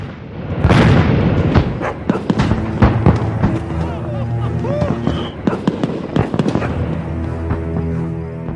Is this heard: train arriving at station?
no